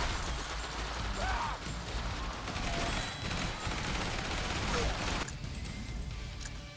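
Minigun firing in the zombie survival game Yet Another Zombie Survivors, a dense continuous rattle of rapid shots that holds steady and fairly loud for several seconds alongside game effects, with no speech over it.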